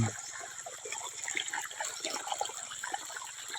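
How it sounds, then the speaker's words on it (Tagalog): Water splashes and gushes close by as bitter gourd plants are watered during a dry spell, a continuous burbling pour with small spattering bursts throughout. "Patubig natin."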